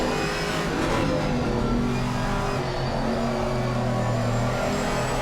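Mercedes-AMG GT3 race cars in Assetto Corsa Competizione at Silverstone drone and rev continuously, a mid-pitched engine note with shifting harmonics as cars approach and pass, no talk over it.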